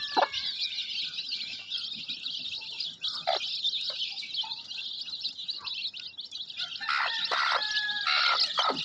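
Many free-range village chickens and chicks chirp and peep in a dense, continuous chorus, with occasional louder squawks rising above it near the end.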